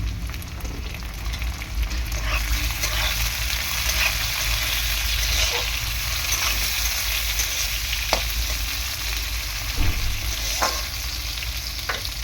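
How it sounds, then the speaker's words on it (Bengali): Tomato pieces and onion fry with salt in a hot pan, giving a steady, loud sizzle with occasional stirring scrapes and small pops, close up and continuous with no talk. "টমেটো আর পেঁয়াজটা যাতে খুব ভালোভাবে ভাজা হয় তার জন্য একটু লবণ দিয়ে দিয়েছি"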